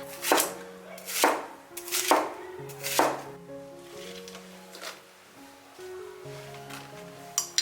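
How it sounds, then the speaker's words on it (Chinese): A knife chops an onion into large chunks on a board in a few firm, evenly spaced strokes, then quieter cuts follow against faint background music. "再准备一个洋葱，切成大块。"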